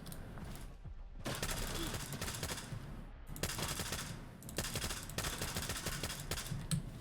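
Submachine gun fire in the shooter game Stalker 2, let off in several dense bursts separated by brief pauses, loud and close with sharp mechanical clatter throughout.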